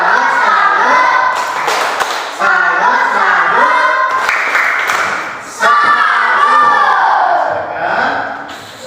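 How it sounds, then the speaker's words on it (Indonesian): A class of schoolchildren performs a rhythmic salute clap, loud group clapping mixed with shouted, chanted voices in bursts throughout. "wah, tepuk salut. Salut."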